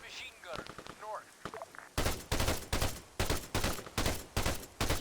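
Arma 3 rifle fire aimed at an enemy machine gunner, a run of loud, sharp shots in a fairly even rhythm, roughly eight in all, coming after a stretch where a voice talks over quieter background noise.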